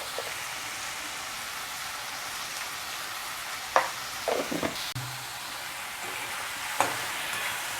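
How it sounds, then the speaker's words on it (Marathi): Chopped vegetables with finely diced red capsicum and salt sautéing in a pan, a steady soft sizzle throughout with a few clattering stirs and scrapes of a spoon against the pan. "भाज्या सर्व आपल्या नीट परतून घेऊया."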